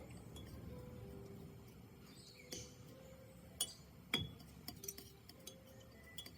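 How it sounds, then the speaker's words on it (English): Stand oil, gum turps and damar varnish being stirred in a glass jar, with sparse light clinks and taps of the stirrer against the glass over a low room hush, growing more frequent toward the end. "now we just have to stir it up"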